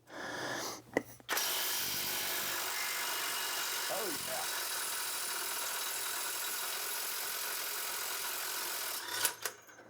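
An Alloyman impact wrench runs in a sustained, loud, high-pitched whir lasting several seconds as it breaks a nut loose, bracketed by sharp clanks at the start and finish.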